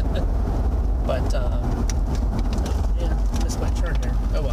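Florida road traffic rolls past in a continuous low rumble of car engines and tyres, steady and fairly close, with a few brief higher sounds over the hum.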